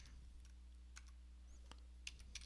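Someone types on a computer keyboard, a few faint, scattered key clicks over a quiet low hum, entering text into a Windows configuration file.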